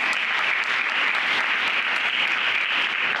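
Loud, dense audience applause for a guest on a panel discussion about suicide awareness, a continuous even roar of clapping close up and alone.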